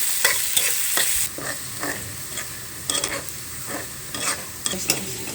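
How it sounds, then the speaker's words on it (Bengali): Onion and garlic browning in a pan for beef nihari, a continuous close sizzle punctuated by repeated spatula scrapes and stirs at an uneven rhythm, no voices. "এর মধ্যে দিয়ে দিব পেঁয়াজ আর রসুন। এটা ভালো করে ব্রাউন করে ভেজে নেব।"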